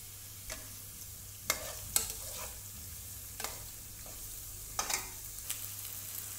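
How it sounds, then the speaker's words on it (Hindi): Onion, green chili and ginger fry in a pan, giving a faint steady sizzle with a low hum beneath and occasional scraping stirs of a spoon at irregular intervals. "ओनियन को हमें ब्राउन होने तक पकाना है।"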